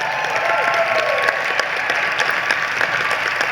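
Audience applauding steadily at a university hall of fame induction ceremony, a dense wash of clapping filling the hall with no voices over it.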